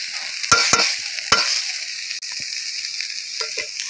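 Dried shrimp and chopped garlic stir-fry in oil with a steady sizzle. A few sharp scraping stirs and clatters stand out, close and fairly loud, with no voices.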